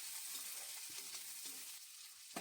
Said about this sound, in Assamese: এইকেইটা মই ধুনীয়াকৈ ভাজি লৈছোঁ ৰঙচুৱা হৈ যোৱাকৈ।